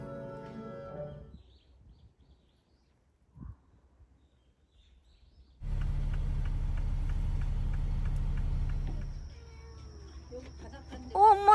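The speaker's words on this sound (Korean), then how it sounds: "엄마 이거 고양이 짱 많아." Cats in a dark city street on Jeju, with a short faint sound early on, then a loud stretch of several seconds and a rising cry near the end, with quiet gaps between.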